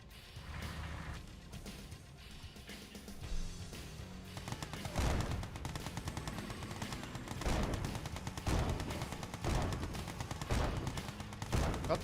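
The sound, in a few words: Gatling guns firing in a video game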